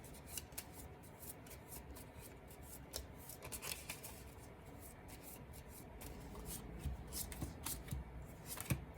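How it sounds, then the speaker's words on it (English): Star Realms Frontiers playing cards being shuffled at a table during a solo game, a steady run of soft papery riffles and rubbing with sharper snaps, close and fairly quiet with no talk. "Draw and shuffle"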